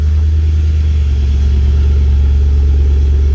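A Nissan Patrol Y62 engine runs loud and steady close by, a deep low rumble holding throughout with a slight change in tone about one second in, as though just started and settling into idle; no one speaks.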